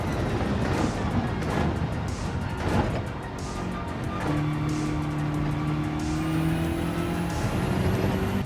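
A BMW M6 GR3 race car in Gran Turismo 7 at Suzuka drives at full throttle. The engine note climbs steadily in pitch after some rough, noisy bursts, loud and sustained with no talk.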